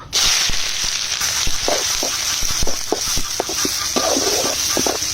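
Chopped onion with cardamom and cinnamon sizzles and crackles steadily in hot mustard oil in a cooking pot, a loud continuous fry with scattered spatters and occasional stirring clinks.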